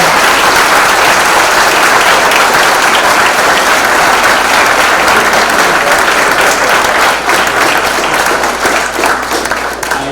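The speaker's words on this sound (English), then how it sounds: "a big round of applause again for Malina Saval." A large audience at a talk gives a sustained, loud, dense round of applause that stays steady throughout and eases slightly at the end.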